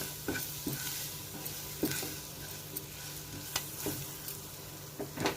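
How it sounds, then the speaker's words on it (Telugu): Garam masala, coriander powder and salt stirred in a hot pan for mutton boti fry, a soft continuous sizzle broken by regular scraping taps of a spoon, close and fairly quiet with no voices. "ఇవన్నీ వేసుకొని చక్కగా కలపాలి"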